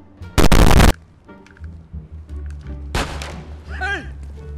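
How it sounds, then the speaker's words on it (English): A gunshot in GTA San Andreas cracks out as a loud, sharp burst near the start, followed by quieter game noise and a second blast, with a voice speaking over the background. "Who shot at me?"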